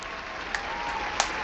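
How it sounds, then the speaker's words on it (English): Station crowd applause in an audio drama, a soft steady patter of clapping with a couple of brief sharper claps, fairly quiet and continuous. "The station was filled with loud claps and cheers."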